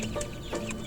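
Black Australorp chickens clucking in short, repeated bursts over a steady backyard farmyard background, fairly close.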